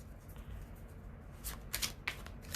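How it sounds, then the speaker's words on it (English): Tarot cards riffled and shuffled close up in short bursts of crisp flicking, loudest toward the end, over a low background hum with no talking. "Just clearing the cards"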